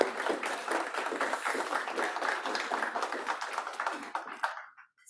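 Audience applause for award winners at a November reception, a dense, steady clatter of many hands clapping at moderate volume that thins and fades out near the end.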